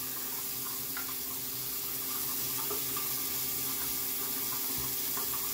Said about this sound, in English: So we're going to have to go ahead and rinse my eyes.